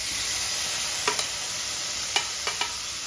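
Chopped green tomatoes stir-fry in a pan with green chili and chili powder, giving a steady bright sizzle broken by several short scraping strokes of a spoon, close and without voices.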